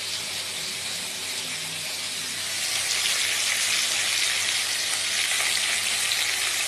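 Fish fries in hot oil in a pan, giving a continuous bright sizzling hiss close by that swells louder partway through and stays steady, with no talk.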